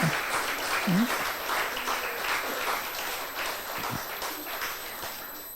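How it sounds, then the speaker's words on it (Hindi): Audience at a Trimurthi Shiv Jayanti celebration at a Brahma Kumaris retreat centre in Delhi NCR gives a round of clapping, steady and crowded, with a few brief voices over it. "आप लोगों के लिए डबल ताली बजाएंगे।"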